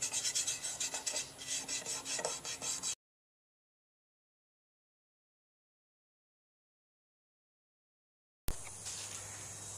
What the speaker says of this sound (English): finished sanding the glue and sawdust mixture off